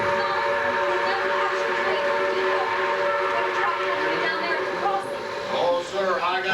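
A train-passing stage sound effect in a 1985 Towsontown production of The Music Man: a loud, continuous rumble with a whistle-like tone, its rushing texture fluctuating toward the end.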